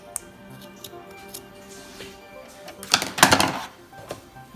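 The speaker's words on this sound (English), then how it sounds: "So just give those a quick snip." Scissors snip through the notches of a fabric neck binding on a newborn onesie, giving a quick cluster of close, crisp cuts after a few faint ticks.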